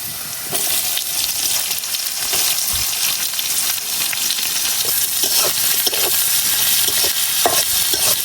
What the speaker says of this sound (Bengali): যখন পেঁয়াজ আর রসুন ডারে একটু লাল লাল করে বাইজে নিলাম